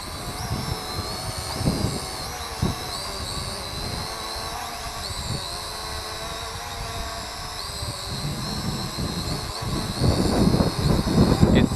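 An Eachine E520S drone flies in strong wind: a steady, high propeller whine is buffeted by rough, gusty wind rumble on the microphone that grows louder near the end.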